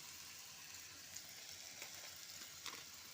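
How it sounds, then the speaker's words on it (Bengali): Spices stir-fried in hot oil for a cauliflower muri ghonto, a steady, faint hiss of sizzling with a few soft stirring ticks, close but quiet, with no talking. "মশলাটা দিয়ে কষতে থাকবো, যতক্ষণ না মশলা থেকে তেল ছেড়ে যাচ্ছে ততক্ষণ আমি কষতে থাকবো"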